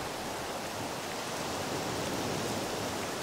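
Steady rain in the video game Reprobates, a continuous broadband hiss that stays even and fairly soft throughout with no distinct drops or other sounds.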